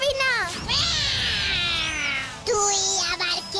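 A cartoon cat in a Bengali children's animated series gives drawn-out, wavering meows, with one longer cry and a shorter one after a brief break, among lively animated voices.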